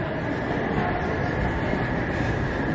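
A train at Union Station rumbles steadily with a constant loud roar of cars on the rails, a continuous hum with faint voices underneath.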